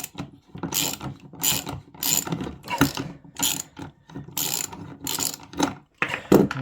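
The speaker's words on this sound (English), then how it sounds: "Get your ratchet on. And you can just unscrew the nut back off then." Ratchet wrench unscrewing a nut during repair of a failed floor with rotten timber joists, heard as repeated close bursts of rapid clicking strokes with short pauses between them.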